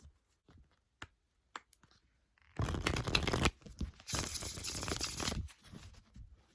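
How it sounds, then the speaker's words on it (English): A flexible tarot deck riffle shuffled close up: a few light taps and clicks, then two dense, loud bursts of fluttering card riffles, each lasting about a second, with soft handling noises between. "we're gonna try a ruffle shuffle on these babies"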